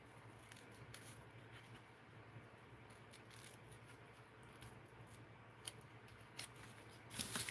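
Scissors snip paper in a close, quiet series of short cuts during an art-journal session, working right up against a thread while fussy-cutting a figure, over a low steady hum.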